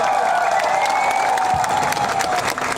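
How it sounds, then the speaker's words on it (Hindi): A crowd at a Tipra Motha party rally in Nailaha, Ambassa, applauding for leader B K Rankhol: dense, continuous clapping and cheering at steady loudness for a few seconds, with no speech over it. "पू बीके रंखोल के लिए ताली मारिए।"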